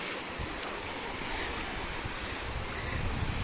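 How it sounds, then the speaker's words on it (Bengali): Sea waves wash onto a beach in a steady broad roar, with wind buffeting the microphone and no clear voices. "ঢেউ আসছে, আবার ঢেউ আসছে।"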